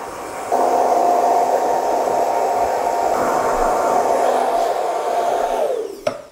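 A hair dryer blows steadily at a barbershop, drying a man's short haircut with a loud, constant whooshing hum that holds for several seconds before switching off with a click.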